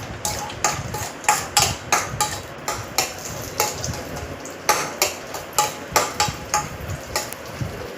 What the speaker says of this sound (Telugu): ఇప్పుడు డ్రై ఫ్రూట్స్ అండి, కాజు అండ్ బాదం, అవి గోల్డెన్ కలర్ వచ్చేంత వరకు వేయించుకోవాలండి